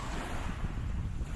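Black Sea surf rolls in under gusting wind, a continuous rumbling wash of waves with buffeting wind noise on the microphone, steady and fairly loud, no voices.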